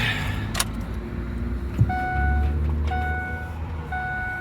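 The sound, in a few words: 2002 Ford F-250 7.3L diesel engine running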